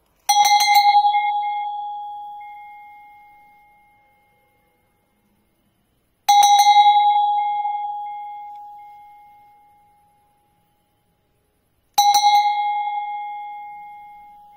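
A grey chan bell with patterned decoration is struck three times, about six seconds apart. Each clear metallic ring rings out and fades slowly to silence.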